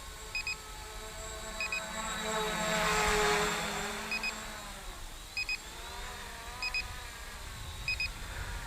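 An SJRC F11 brushless drone flies outdoors, its steady motor whine swelling louder as it passes nearer and then fading, with regular faint electronic beeps repeating over the drone hum.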